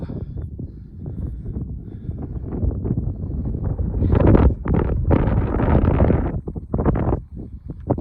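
Cold, gusty wind on a mountaintop roars across the microphone in surging bursts, loud and close, with broadband rumble rising and falling over several seconds.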